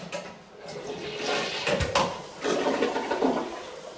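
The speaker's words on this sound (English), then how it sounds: "Give the toilet a quick flush." A household toilet flushes loudly and close by during a home inspection, a rushing surge of water followed by the tank refilling with gurgling.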